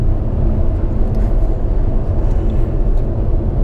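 Inside a Tesla cruising at 120 km/h, a steady broadband roar of tyres rolling on the road fills the cabin, loud and unbroken with no talk.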